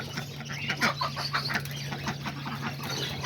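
Backyard chickens clucking at feeding time in a coop shared with ducks, several birds giving soft, overlapping clucks close by over a constant low hum.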